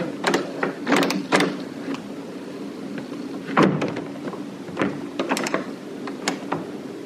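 A hotel balcony door at a resort in Boa Vista, Cape Verde, being struggled with and locked, giving a series of close mechanical clunks, rattles and latch clicks in uneven bursts across several seconds.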